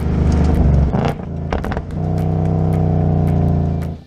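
A 2019 Ford Mustang Bullitt's exhaust in track mode at maximum volume barks with a sharp rev and a few pops, then settles into a loud, steady burbling drone nearby.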